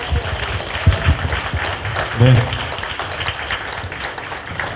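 An audience at a book concert and author meet-up applauds steadily, a continuous patter of clapping under a brief spoken voice.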